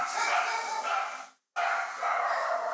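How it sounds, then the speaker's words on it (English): Dogs bark excitedly at a home during a storm, a close run of loud barks and yips that breaks off for a brief moment of silence and then carries on. "Dogs are going crazy."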